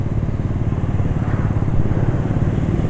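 A small motorcycle rides through busy traffic, its engine a loud, steady, throbbing drone that stays at a constant throttle throughout.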